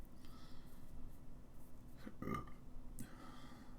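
A single short, low burp sounds once near the middle, close and fairly soft, set against a quiet room with faint background noise.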